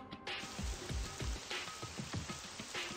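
Indoor sprinklers in the video game Super Danganronpa Another 2 spray water in a continuous rain-like hiss, with a few soft low thumps scattered through the steady wash.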